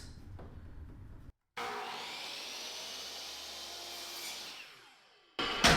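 A miter saw cuts wood pieces for shaker cabinet doors, with one whining, loud cut running about four seconds and trailing off, followed by the blade starting again at the end, with no speech.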